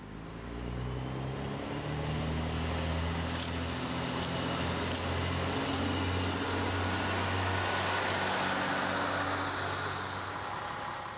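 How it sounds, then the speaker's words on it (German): A lightweight diesel railcar of the Burgenlandbahn runs along the Unstrut line near Naumburg, producing a steady low engine rumble and rolling noise with faint, sparse rail clicks, heard at a moderate distance. "Seit 1999 sind diese Leichtverbrennungstriebwagen unterwegs."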